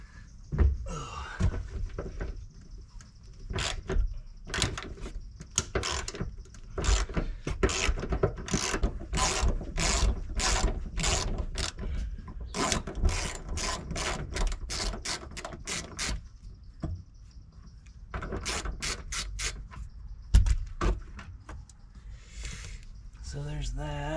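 Ratchet removing a 15 mm seat bolt in a 2019 Chevrolet Silverado 2500 truck: a long series of close, rapid clicking ratchet strokes with short pauses between, while a person talks intermittently.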